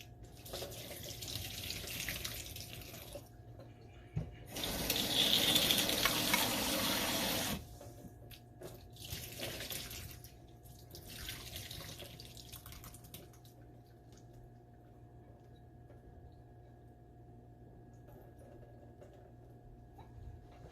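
Tap water runs into a sink while vegetables for kimchi are rinsed, with a loud steady gush for a few seconds, then intermittent splashing and dripping that fade out.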